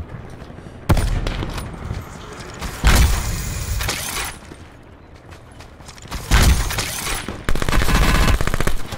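Gunfire in a Call of Duty match, with several loud bursts of rapid automatic fire close by separated by short lulls, and a sustained rattling volley near the end, no talking over it.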